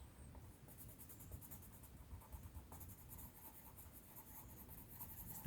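Soft, close scratching of a pencil shading and blending on paper in short repeated back-and-forth strokes, quiet and steady, with no voices.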